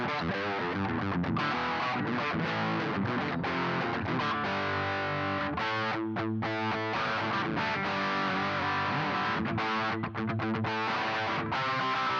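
Heavily distorted electric guitar played through a ProCo Rat distortion pedal, chords and riffs continuously, gritty and saturated, loud and up front with no voices.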